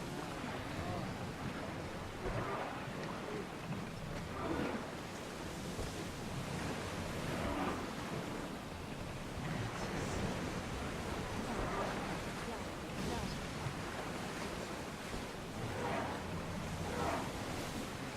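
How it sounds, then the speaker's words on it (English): Storm at sea in the Assassin's Creed Odyssey game: steady, loud crashing waves and gusting wind roar continuously around a sailing ship, with no let-up and no clear talk. "Look at that storm!"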